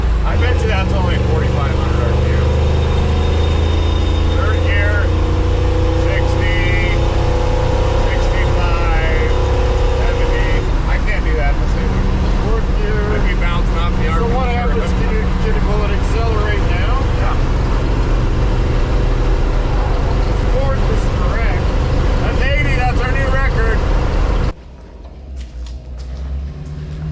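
A 1954 Ford F100 pickup engine drones steadily under load while accelerating in third gear, a loud, sustained rumble heard from the cab with a voice talking over it, cutting off abruptly near the end.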